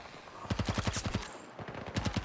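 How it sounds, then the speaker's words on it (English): A PP2000 submachine gun firing in Battlefield 2042, two rapid full-auto bursts of sharp, evenly spaced shots with a brief pause between them, close and loud. "this PP2000 is not a bad little submachine gun, is it?"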